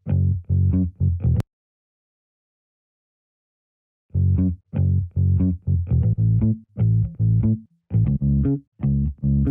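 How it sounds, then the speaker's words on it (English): A heavily processed, resampled synth bass line from a disco-house remake plays alone, dry and a little muffled: a short punchy phrase, about a second and a half of silence, then a denser run of rhythmic notes. "So the final bass, after all the processing, sounds like this."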